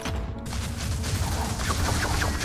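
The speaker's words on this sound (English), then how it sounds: "So many explosions." Rapid bursts of magical explosions in the video game Wizards of Legend, a dense, loud crackling barrage of blasts and crashes packed together across the whole stretch.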